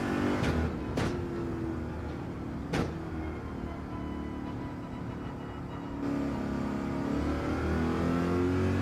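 Race cars in Gran Turismo 7, Gr.3 class at Watkins Glen, roar off the start in a loud, dense wall of engine noise that rises and shifts with gear changes, with a few sharp transient bursts near the beginning.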